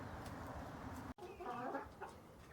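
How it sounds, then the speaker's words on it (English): A silkie rooster on a farm gives a few soft, short clucks close by, faint over steady background hiss. "that is our silky rooster who we hatched out on the farm"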